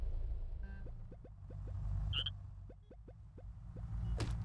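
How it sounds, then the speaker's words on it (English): Video game frog from Crossy Road, a jungle frog, makes a series of short evenly spaced croaks or hops, about a dozen soft pulses close together over a steady low background hum, with a brief bright chime partway through. "Jungle frog."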